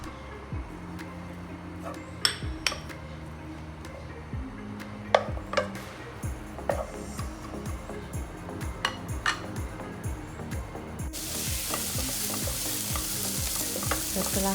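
Shallots, garlic and onion sizzle in a pan for spaghetti bolognese, a continuous frying hiss under repeated scraping strokes of a utensil stirring against the pan, with occasional clinks, close and fairly loud.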